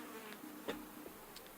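Honeybees buzzing in a hive during a hot inspection with smoke, a soft continuous hum with a few brief louder passes, fairly quiet and without talk.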